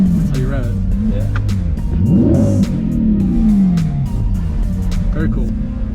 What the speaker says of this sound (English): Pull both paddles in to rev it